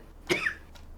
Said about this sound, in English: But I need to cough.